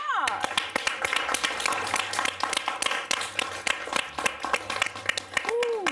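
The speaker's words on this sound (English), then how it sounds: "Give her a round of applause." Audience applause and clapping for the host of a TV show at a season premiere, a lively burst of claps with some rhythmic beats mixed in, heard alongside background talking and a faint musical tone.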